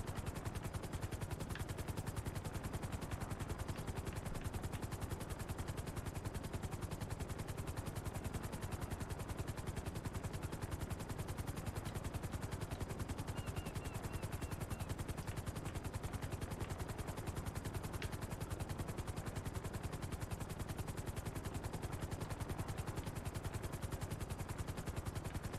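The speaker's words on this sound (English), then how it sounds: "An aeroplane? It's Pegasus, isn't it? Two aeroplanes." Aircraft fly overhead in the video game GTA Online, a dense, steady roar and rumble that holds at an even loudness for the whole stretch, with no speech.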